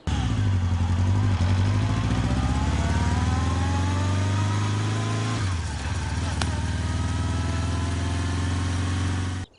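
A newly bought motorbike's engine runs loudly and continuously, its pitch slowly climbing as it revs, then settling before cutting out at the end.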